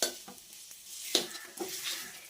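Dry fruit laddu paste pressed and stirred in a hot pan, a soft scraping of spoon against metal with a faint sizzle and a few sharper knocks over about two seconds, close and quiet.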